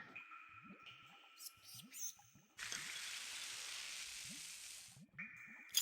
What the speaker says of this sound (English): Richard's acid has dissolved the padlock as if it were made of paper.